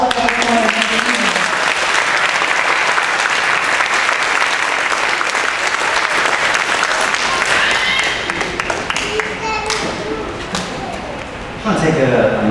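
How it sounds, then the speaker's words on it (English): Loud, dense applause from a large audience at an elementary school spring strings concert fills the space, steady for several seconds, dipping briefly before swelling again near the end. "can we have a big round of applause for all of the performers of the evening?"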